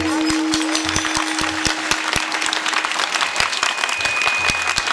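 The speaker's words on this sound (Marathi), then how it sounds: "टाळी." An audience at a kirtan in Pimpalgaon claps in steady rhythm, loud and sustained throughout, with a held musical tone and sharp percussive beats running beneath the applause.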